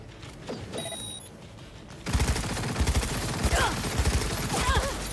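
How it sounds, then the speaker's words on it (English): Rapid gunfire rattles toward the player in Cyberpunk 2077, loud repeated bursts of shots erupting after a short quieter lead-in with faint mechanical noises. "How are you shooting at me?"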